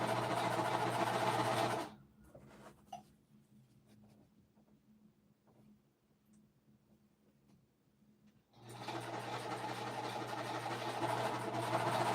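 An early-1980s sewing machine running in steady bursts, a loud continuous motor hum for about two seconds, then a long quiet pause with faint handling, before it starts up again and runs to the end.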